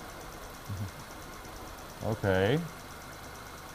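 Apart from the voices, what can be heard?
car engine misfiring during fuel injector test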